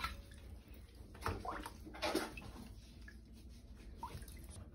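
A ferret is bathed in bathtub water with oats, with gentle sloshing, dripping and splashing close by in a quiet room, a few louder splashes breaking the soft, steady water sounds.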